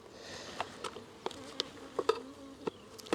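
Package bees hum in a hive during installation, a faint, steady buzzing from many insects with scattered light taps and clicks close by.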